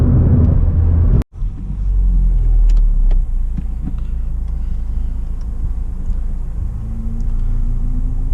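A Ford Fiesta ST turbo hatchback hums low and steady from inside the cabin while driving on backroads at night, with one brief dropout early and a slight rise in pitch toward the end.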